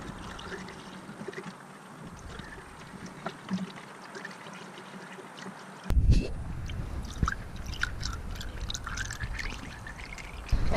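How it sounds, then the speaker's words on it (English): Distilled water is poured into the radiator of a 2006-2011 Honda Civic, a faint trickle that turns into a louder, gurgling splash about halfway through and keeps going. "So I'm gonna go ahead and pour it in the car and see how much this thing takes"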